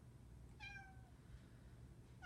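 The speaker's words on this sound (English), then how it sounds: "Sorry, that's my cat, Anastasia, and she's the talker." A pet cat meows indoors, one clear drawn-out call followed by the start of a second near the end, close and moderately loud over a low steady room hum.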